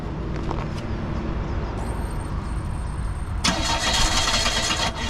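A 1996 Oldsmobile Cutlass engine cranks, then catches around the midpoint and roars into a louder, steady run close by.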